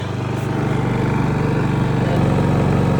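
A 2200 watt portable generator runs steadily close by with a loud, even engine drone, powering an RV air conditioner set to low fan only.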